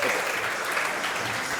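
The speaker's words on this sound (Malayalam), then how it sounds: "എല്ലാവരും ആദ്യം ഇവിടേക്ക് നല്ലൊരു കൈയടി അല്ലേ" An audience claps steadily and densely at an Onam programme in Kasaragod, a continuous wash of applause from a sizable crowd.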